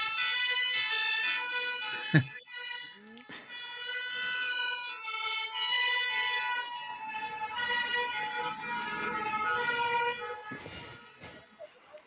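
A fire engine siren wails with a loud, sustained rising and falling tone from an emergency vehicle nearby. Brief road and traffic noises cut in now and then.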